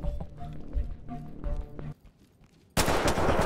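Gunshots in the tactical shooter Ready or Not, heard as a rapid close burst of shots, then a brief lull and a loud, dense volley at the end. A player talks over the shooting.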